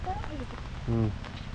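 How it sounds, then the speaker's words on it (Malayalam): Dense, steady hiss of heavy rain pouring down close by during outdoor fishing in Kerala, with a brief voice breaking in partway through. "മഴ നല്ലപോലെ ഉറച്ചേ കേൾക്കാമോ കേൾക്കാമോ മഴ നല്ലപോലെ ഉറച്ചുകൊണ്ട്"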